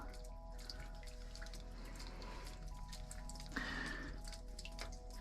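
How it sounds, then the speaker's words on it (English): Water drips steadily from limestone inside a cave, a quiet scatter of small drops over faint running water, with a brief louder splash partway through and no talking. "Hear the dripping of the limestone, the water coming out?"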